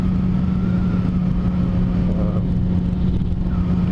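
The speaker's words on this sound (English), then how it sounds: "I got a lot better sounding motorcycle without spending, you know, several hundred on the full exhaust system." Motorcycle fitted with an aftermarket exhaust, a steady loud engine drone running throughout at a constant idle or cruise, with no voices.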